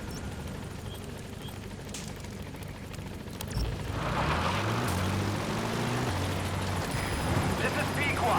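A helicopter in Metal Gear Solid V grows louder as it arrives at a landing zone, its steady rotor drone swelling and holding close over game noise and some talk.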